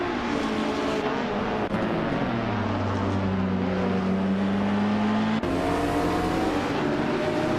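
GTE race cars and ultralight aircraft race around the tight Marina Bay street circuit in a video game, several engines droning loud and continuous, pitches sliding up and down as they pass and shift, with a sharp change near the end.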